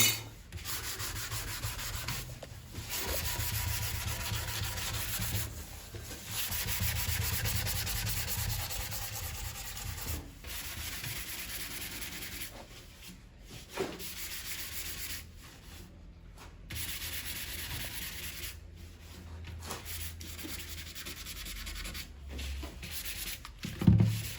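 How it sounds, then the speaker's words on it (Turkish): Sandpaper rubs back and forth across wood in long scratchy strokes, broken by short pauses, fairly quiet and close, with no talking; 400-grit sandpaper removing scratches while refinishing a divan saz. "Yine en son 400 numara zımparayla çiziklerin hepsini alacağız."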